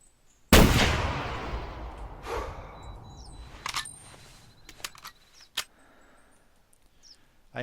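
A single loud rifle gunshot in the hunting game theHunter Classic, a sharp crack with a long reverberant decay rolling away, followed by faint scattered clicks and small ambient sounds.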